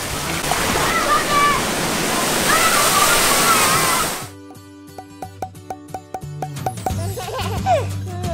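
Rushing, splashing water at a sunny water park roars steadily for about four seconds, then cuts off and gives way to a run of short, sharp thuds and clicks with some voices.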